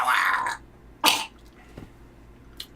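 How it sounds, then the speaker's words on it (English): A man clears his throat twice during a gaming podcast: a loud, rough rasp up close, then a second short harsh burst about a second later, with quieter small noises after it. "Clear your throat."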